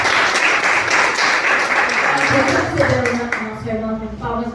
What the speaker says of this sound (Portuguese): nosso irmão com palmas bem alegres para o Senhor